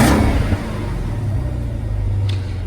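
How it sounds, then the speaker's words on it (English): Supercharged Jeep Trackhawk engine idling and revving up, a steady close rumble that swells briefly at the start and then holds a low, fairly subdued drone. "Let's hear that engine."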